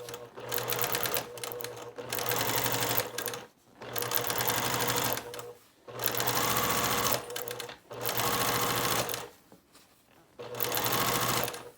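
A sewing machine stitches quilt pieces in five or six rapid bursts of a few seconds each, separated by short pauses, loud and close.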